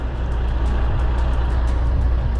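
A Kenworth W900L truck pushes snow with an airlift bumper during a heavy snowfall, a steady, loud, low engine rumble with a constant broadband roar throughout.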